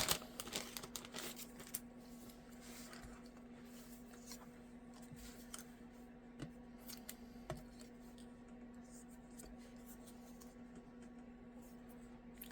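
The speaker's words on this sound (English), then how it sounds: "Just gonna fold it in half." Cardstock folded in half for a handmade Paper Pumpkin greeting card: soft, close crinkles and light scraping over a low, steady background hum, busier at the start and then quieter.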